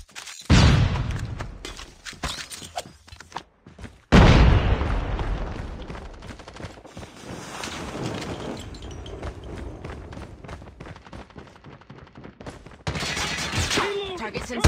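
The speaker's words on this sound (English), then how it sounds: "Flashbang." A flashbang and gunfire in a search-and-destroy match of a first-person shooter: sharp bursts at the start, then a loud blast around four seconds that rolls into sustained rapid shots and clatter, with a voice calling out briefly.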